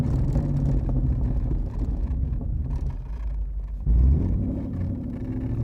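A 1965 Shelby Cobra replica built by Backdraft drives along with a steady, loud low engine rumble and wind buffeting, with a brief surge in intensity near the end.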